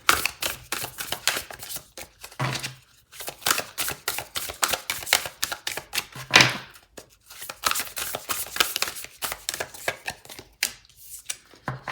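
Tarot cards are shuffled repeatedly, with quick riffling flutters and soft slaps in irregular bursts, close and fairly loud.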